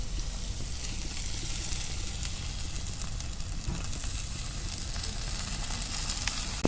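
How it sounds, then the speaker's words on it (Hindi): Food sizzles and fries in a clay pot set on a traditional clay stove, cooking Jharkhand tribal rugda, a steady crackling hiss throughout with no voices. "आप देख सकते हो मिट्टी के बर्तन, मिट्टी का चूल्हा, और एकदम नेचुरल वे में कुकिंग हो रहा है"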